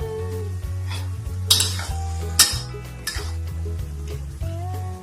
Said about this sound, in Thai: จากนั้นเราก็จะนำพริกลง ผัดเลยนะครับ